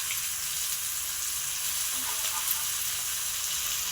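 Masala-coated fish fries in oil in a pan, making an even, continuous hissing sizzle up close with no voices over it.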